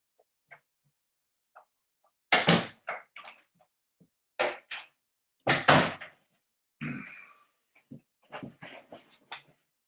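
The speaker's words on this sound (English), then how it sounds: "Hold on, Jim, let me shut the door to my office." An office door being shut, heard as a few sharp, close knocks and thuds with short pauses between them in an otherwise quiet room.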